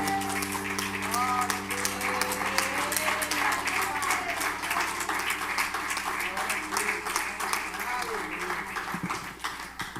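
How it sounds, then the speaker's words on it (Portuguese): Church congregation applauding during a Brazilian family worship service, sustained clapping with a voice speaking and some music tones underneath throughout. "Vamos aplaudir o Senhor novamente."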